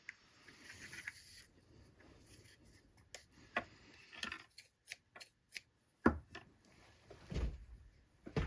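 Scissors snip through lace, a series of quiet, crisp cuts spaced irregularly over several seconds, with a louder cluster of snips near the end and no talking.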